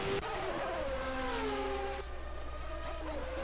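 A Formula 1 car engine in a 1991-season racing video game hums at a low rev range, its steady tonal drone shifting pitch and sliding downward, with a faint second car whine passing in the background.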